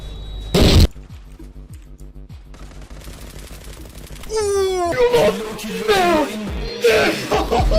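A bomb blows up in the Zula online shooter game: a short, loud blast near the start, then scattered gunfire and someone talking excitedly over the game's sounds.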